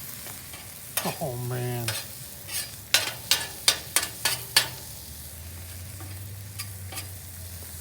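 Onions going onto a hot Blackstone Tailgater griddle, scraped and flipped with a spatula in a burst of sharp clacks, then settling into a low steady sizzle; someone speaks briefly.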